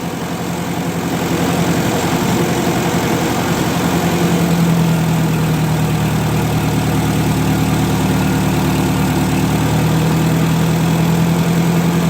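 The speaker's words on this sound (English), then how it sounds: "We're just going to try and get it so it's got a nice idle." A 1958 Oliver 550 diesel tractor engine idles steadily and loudly for the whole stretch, a deep rumbling drone with a slight shift in pitch partway through.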